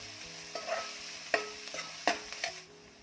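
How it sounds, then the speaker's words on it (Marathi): Chopped onion with a little salt fries in a pan, a steady sizzle broken by several sharp scrapes and knocks of a spoon stirring against the metal, close and clear, with no voices. "कांदा भाजताना थोडं मीठ घालायचं त्यामुळे कांदा पटकन भाजला जातो"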